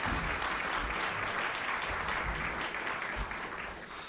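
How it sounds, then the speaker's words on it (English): An audience at a press club luncheon applauds, a brief steady patter of many hands clapping that fades slightly toward the end. "now you can certainly give your applause"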